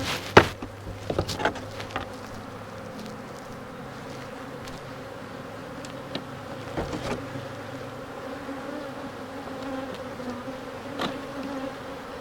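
Honeybees swarm around an open beehive during hive splitting, producing a continuous close buzzing hum. Faint knocks and taps of frames are heard near the start and scattered later.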